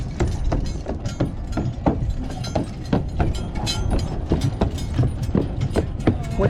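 The horse-drawn tram at Victor Harbor and Granite Island rolls past, its horse's hooves clopping in a steady rhythm over a low rumble of wheels, fairly close and continuous.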